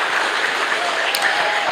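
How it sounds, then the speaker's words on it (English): Brief, even applause from an audience at a fireside chat on scaling innovation in emerging cities, a soft wash of clapping heard alone without talk. "Can we clap for ourselves, please?"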